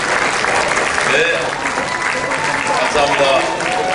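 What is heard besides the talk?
applause for President Joko Widodo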